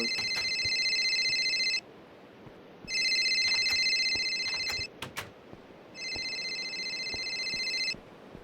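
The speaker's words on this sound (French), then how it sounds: "C'est le téléphone." Telephone ringing in a Minecraft horror map, three long bursts of a bright electronic trill separated by short pauses, loud and close over a low rumbling ambience.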